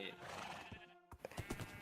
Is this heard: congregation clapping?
no